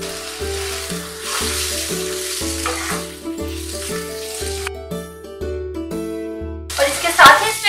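Chopped capsicum cooking with tomato and spices in a pan for restaurant-style paneer bhurji, a steady sizzle sitting under loud background music, with a brighter burst of crackling near the end.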